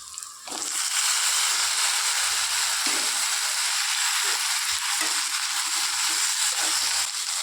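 Chopped cluster beans tipped into a pan of fried onions for a Tamil-style poriyal, sizzling loudly and steadily at close range while being stirred, with a short quieter moment just before the frying noise swells.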